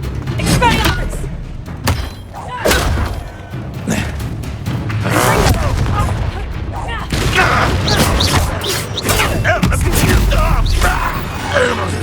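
An Expelliarmus spell is cast in combat in the Hogwarts Legacy video game, with heavy thuds and booming bursts repeating over several seconds while voices talk over it.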